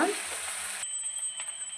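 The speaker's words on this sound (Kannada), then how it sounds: "ಈಗ ಆಲೂಗಡ್ಡೆ ಎಲ್ಲ ಹಾಕಿದ ಮೇಲೆ ನಾವು ಕಲಸೋಣ" Potato filling for masala dosa, mixed with an onion tempering in a pan, gives a soft sizzle and scraping stir, then quieter after a sharp cut with a faint high ringing tone; low and close.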